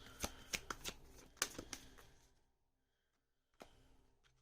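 Tarot cards riffle through a quick shuffle, a run of crisp bursting flicks in the first two seconds, then a pause before one more short flutter, close and fairly quiet with no talking.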